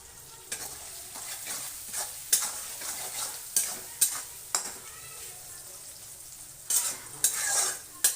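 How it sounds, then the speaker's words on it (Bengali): Onion fries in oil in a pan with turmeric added, sizzling steadily while a spatula scrapes and knocks against the metal in uneven bursts, near and fairly loud, with no talking. "আস্তে আস্তে এবার ভাজতে থাকি পেঁয়াজটা ভাজি ভালো করে"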